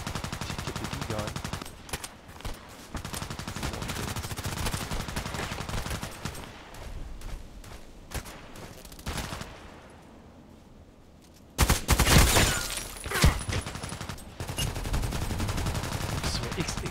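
Automatic gunfire rattles in long bursts from a TKPD gun in a shooter game, loud and dense, dropping out briefly before a sharp louder volley and more sustained firing.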